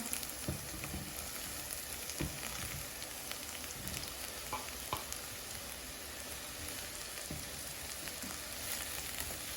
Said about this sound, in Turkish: biberle soğanla, onlar kavrulsun. Mantarlarımı içine ilave edeceğim.